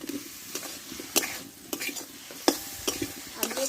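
Half a spoon of sugar and sautéed potatoes go into a spiced masala in a pan for a dry cabbage dish with hilsa fish head. Steady sizzling runs under sharp, repeated scrapes and clanks of a spoon stirring against the pan.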